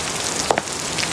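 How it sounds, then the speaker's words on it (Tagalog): Heavy rain pours steadily in a dense, even hiss at close range, with a few sharper drops or splashes standing out briefly; no voices are heard. "Kaso, malakas ang ulan."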